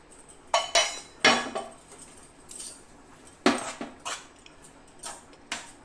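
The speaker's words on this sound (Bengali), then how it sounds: "আমি এখন ডালের সাথে মিক্সড করে নেব।" Spoon or ladle clinks against a bowl while fried cumin is stirred into dal for dal puri, a series of sharp, close metallic taps and scrapes coming in irregular bursts with short quiet gaps.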